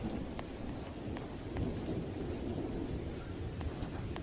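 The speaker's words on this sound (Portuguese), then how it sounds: "sei que ouvi o ribombar de trovões e outros ruídos que a natureza produz somente em seus humores mais terríveis" Steady heavy rain pours down in a thunderstorm, with a low continuous rumble of thunder beneath the dense hiss of falling drops, loud and unbroken with no voices.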